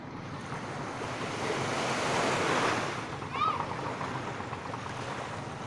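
Giant ocean waves crash and roll onto the beach at Ungos, Real, Quezon, a loud, continuous surf roar that swells and recedes, with wind buffeting the microphone and faint voices in the background.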